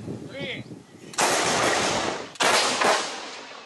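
A CAESAR 155 mm howitzer in a rapeseed field fires at Russian artillery, two heavy booming blasts about a second apart with long rumbling tails, loud and close, after a brief quieter stretch.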